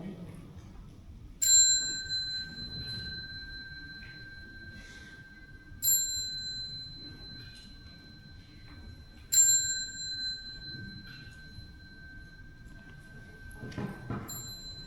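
A meditation bell struck at the close of a Buddhist Dhamma talk rings out three times at spaced intervals, each clear metallic strike sustaining a long, slowly fading tone in a quiet room.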